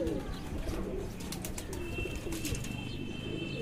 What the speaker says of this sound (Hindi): जो ऊपर नज़र आया वो वाइट कबूतर है